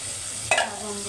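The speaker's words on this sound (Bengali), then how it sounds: "একটু ভালো করে মশলা নেড়ে চলে তেজপাতা গরম মশলা এলাইচ" Spices with bay leaf and garam masala are stirred in a frying pan over a steady sizzle, with one brief scrape of the spoon in the middle.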